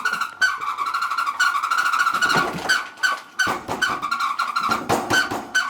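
A car engine cranks and catches immediately, then runs and revs unevenly with a steady high whine and repeated throttle surges, loud and close throughout.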